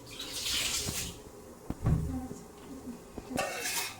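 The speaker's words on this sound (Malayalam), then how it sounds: "നമ്മുടെ വെള്ളം തിളച്ചിട്ടുണ്ടെന്ന് തോന്നുന്നു. നമ്മളിപ്പോൾ ഈ മൂടി തുറന്നു നോക്കാൻ പോവാണ്." A pot of water heating for prawn biryani bubbles and hisses in bursts as its lid is lifted, with a clatter of the lid partway through and a gentle watery churn close by.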